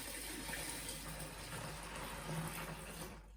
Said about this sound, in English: we're going to put cold water in, and we're going to bring it up to 23 metres